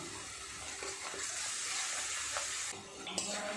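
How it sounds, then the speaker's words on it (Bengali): Spice masala of turmeric, cumin powder, salt and a little chili powder is stirred and fried in a pan for a fish curry, producing a soft steady sizzle with scattered scrapes, faint and without talking. "একটু নেড়ে চেড়ে মশলাটাকে কষিয়ে নিয়েছি"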